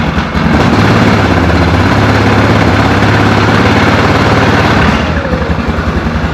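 A 2004 Yamaha Grizzly 660 ATV engine with a no-spark fault runs close and loud, a rough rapid chugging idle that holds steady, then eases slightly near the end.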